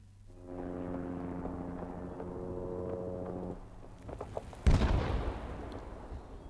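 In Rising Storm 2: Vietnam, a droning propeller aircraft hums for a few seconds, then a single sharp, loud blast of gunfire cracks nearby and echoes away.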